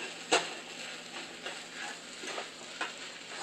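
Angel hair pasta being stirred in a hot pan, a steady soft sizzle with a few sharper scrapes of the utensil, close and alone.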